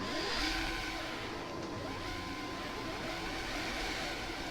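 Race cars revving together on the starting grid at Suzuka in the rFactor racing game, a steady dense engine drone with a slight surge near the start.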